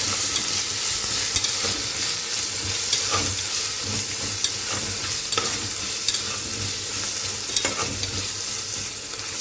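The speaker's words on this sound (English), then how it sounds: "Give it all a nice stir." Chicken biryani masala with ginger garlic paste and onions fries in a pressure cooker, giving a steady close sizzle with occasional scraping stirs and light clinks.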